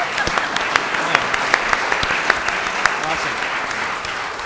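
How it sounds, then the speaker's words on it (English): Audience applause for a contestant at a mock Jeopardy quiz game, a steady patter of clapping with a few sharper individual claps standing out. "Big round of applause for Aaron."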